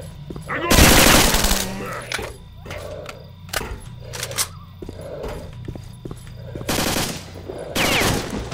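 Gunfire in the video game STALKER: Shadow of Chernobyl, with a loud burst of automatic fire followed by several sharp single shots and another burst near the end, heard over background game ambience.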